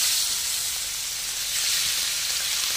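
Lamb liver frying in hot oil, Arabic-style cooking: a steady, loud bright sizzle and hiss that holds evenly throughout with no voices over it.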